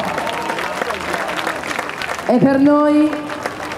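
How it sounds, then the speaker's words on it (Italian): A dance show audience applauds for the performers of Primero el Corazon's Walt Disney-themed evening, with clapping under an announcer's amplified voice, then a brief sustained musical tone sounds near the end. "Grande l'applauso!"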